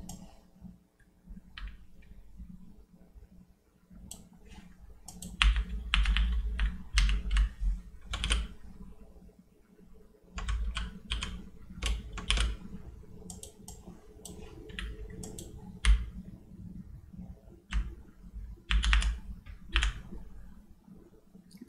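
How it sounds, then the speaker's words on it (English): Rapid typing on a computer keyboard sits close to the microphone, with bursts of loud clicking keystrokes separated by short pauses, no voices. "Like the sound of typing."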